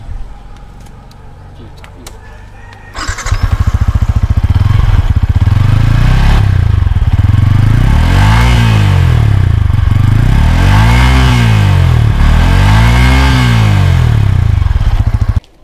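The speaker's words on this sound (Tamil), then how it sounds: "ஸோ கைஸ் இப்போ இந்த வண்டியோட எக்ஸாஸ்ட் நோட் கேட்டிருப்பீங்க." Yamaha R15 V4.0 motorcycle starting up, then idling with a loud close exhaust note and several rising and falling revs, the engine cutting off at the end.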